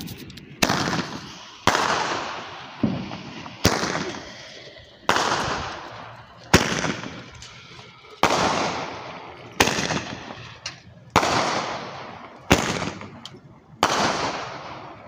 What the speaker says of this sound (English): Roman candle.